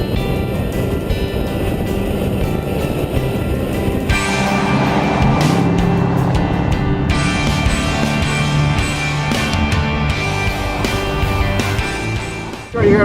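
A 2012 Jeep Grand Cherokee SRT8 in track mode is driven hard on a race track, its engine roaring loud and steady under heavy throttle, with the pitch shifting as it accelerates past a cone.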